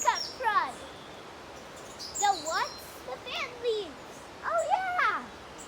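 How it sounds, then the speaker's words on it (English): Birds call in the woods with scattered, sweeping chirps and whistles at moderate distance over a quiet background hiss. "I hear a bunch of birds."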